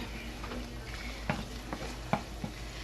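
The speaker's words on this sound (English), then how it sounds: "we're going to put 2 teaspoons of butter in the same pan, and we're going to cook our shrimp" Shrimp cooking in butter in a pan for shrimp-stuffed poblano peppers, giving a steady low sizzle with a few sharp scrapes and clinks of a utensil against the pan, fairly quiet and with no talk.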